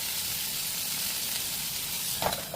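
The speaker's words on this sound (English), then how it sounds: "Hear how that sizzling has calmed down some?" Pork chop frying in a pan, giving a steady, moderate sizzle that hisses continuously with a brief louder crackle near the end.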